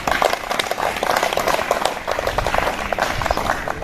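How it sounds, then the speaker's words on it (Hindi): A crowd gathered for an Independence Day gathering in India claps loudly and raggedly throughout, with a dense patter of hands that swells and dips slightly and a murmur of voices underneath. "इस संकल्प के साथ जोरदार तालियां बजाओ।"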